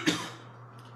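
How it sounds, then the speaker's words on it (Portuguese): A single sharp human cough close by, one quick burst followed by a fading tail over a steady low hum, with no talk. "Essa tosse não é Covid, tá?"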